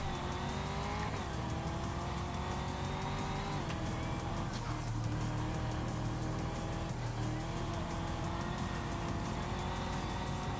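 A car in The Crew Motorfest racing game, driven using the handbrake, with a sustained engine drone and bursts of tyre squeal and skidding throughout, at moderate level without talk.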